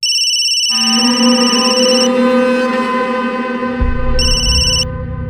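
A phone ringtone sounds for an incoming call, a bright repeating electronic melody that rings loudly and steadily, briefly pausing and then chiming again, with no talking.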